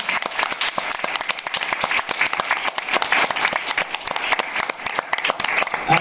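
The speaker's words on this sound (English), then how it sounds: "Another round of applause for this year's winner." Sustained applause from a crowd at a local short film showcase, dense and steady clapping that stays loud for several seconds with a few voices underneath.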